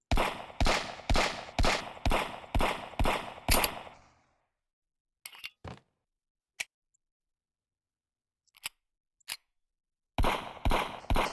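Luger pistol in a video game fires a rapid burst of sharp close shots, then a quiet stretch of scattered mechanical clicks and clacks of reloading, and the quick shots start again.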